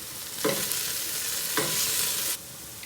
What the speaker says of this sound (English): I'm going to start with frying my onions and ginger